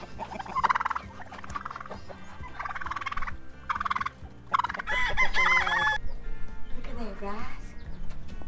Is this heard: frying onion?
no